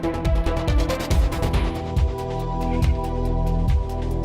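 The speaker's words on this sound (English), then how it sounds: "I also created a preset to go back to the first theme, and that sounds like this." Adaptive game music returning to its first theme, played back through Elias middleware: a full layered arrangement with steady rhythmic low-end hits and sustained tonal parts, loud and continuous with no talking.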